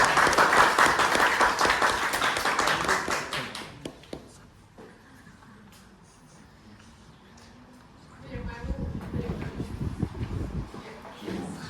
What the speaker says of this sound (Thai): ขอเสียงปรบมือ เพื่อเป็นเกียรติให้กับวิทยากรของเราค่ะ